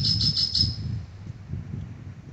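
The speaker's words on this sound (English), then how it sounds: "The most common birds around the resort, you can't avoid them, are great-tailed grackles." A short burst of repeated high, chattering great-tailed grackle calls at a resort, four quick notes, then fading into low background rumble and murmuring.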